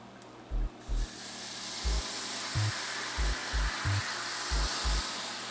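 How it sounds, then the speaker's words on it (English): A hot pan of sauce hisses and sizzles as vodka is poured in to deglaze it, a loud, steady broadband hiss that swells and lingers, punctuated by a series of low thumps. "I'm gonna deglaze with some vodka."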